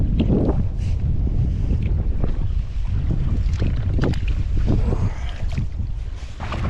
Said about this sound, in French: il y a un petit peu de vent là qui refroidit l'atmosphère